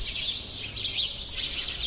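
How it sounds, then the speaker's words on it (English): Sparrows keep up a dense, continuous chatter of high chirps over a steady hiss of background noise, moderately distant with no single call standing out. "Sparrow."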